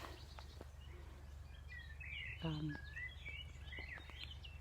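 Birds call and chirp outdoors in a quiet setting, with a few faint, scattered high notes and one brief clearer call partway through over a low steady background hum.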